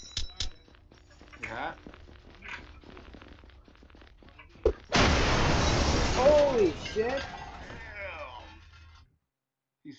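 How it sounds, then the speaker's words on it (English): A suicide bomb explodes in a Roblox video game, a sudden loud blast with a long crackling, debris-filled rumble that fades out, preceded by scattered game clicks and sounds. "Suicide bomb, dude."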